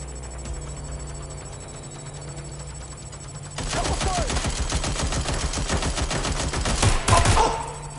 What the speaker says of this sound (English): Shots fired! I've been shot!